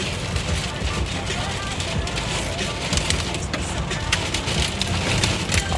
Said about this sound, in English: it is just pouring